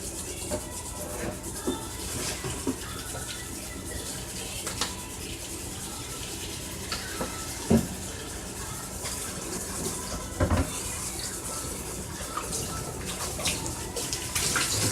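Tap water running in a kitchen sink to rinse out a cooking bowl, a faint continuous splashing stream broken by a few sharp clinks and knocks.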